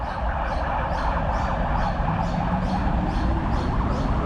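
An ambulance siren wails near the RBH hospital in Spring Hill, Brisbane, its repeating rising tone carrying over steady loud street and traffic noise.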